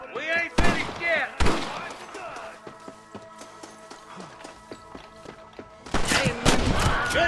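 Gunfire in the Western video game Red Dead Redemption: loud, sharp shots in bursts at the start and again near the end, with sparser reports and game voices shouting in between.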